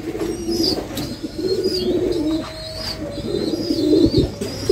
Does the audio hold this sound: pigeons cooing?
yes